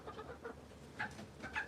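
Rooster and hens cluck softly in a few scattered bursts at a distance, faint over a quiet background with no talking.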